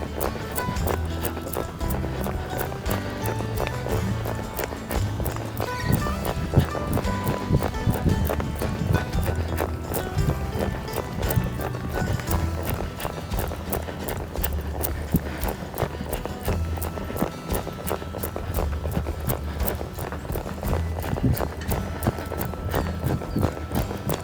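A young horse named Presley has her hooves clip-clopping steadily as she walks around a property, a continuous rhythmic patter of hoofbeats heard close and alone.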